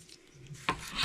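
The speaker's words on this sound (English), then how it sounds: "just clean that up till you don't have any of this foam adhesive left on here." A chisel scrapes foam adhesive off a strip of SUV roof trim, a short rasping rub that grows louder near the end, close and with no voices.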